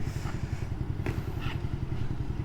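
A trainee who cannot ride a bicycle practises on a motorcycle: a low, steady engine putter runs throughout at moderate distance, with a few faint clatters and thumps over it.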